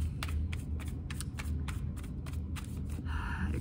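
A deck of tarot cards is shuffled by hand, a run of quick, crisp riffling bursts repeating at a steady rhythm, close and fairly soft.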